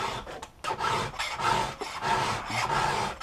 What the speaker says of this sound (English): more of a quick little touch-up filing on a skip-tooth chain